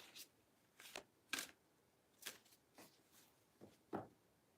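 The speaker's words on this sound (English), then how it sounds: "This is the second time I've shuffled and shuffled and shuffled." A deck of tarot cards shuffled by hand in repeated riffling bursts, close and fairly quiet, with short pauses between each pass and no talking.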